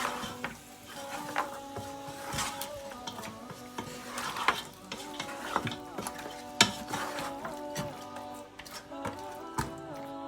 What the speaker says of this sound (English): So we're going to stir the mutton until everything is nicely coated.